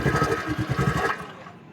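A TVS Scooty Pep BS6 scooter engine, suffering a sensor problem, cranks and runs with a rapid rhythmic chugging for about a second before cutting out and falling quiet.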